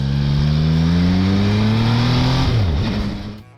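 A MV Agusta Turismo Veloce three-cylinder motorcycle engine revs steadily upward, loud and close, then drops sharply with a quick blip before fading at the end.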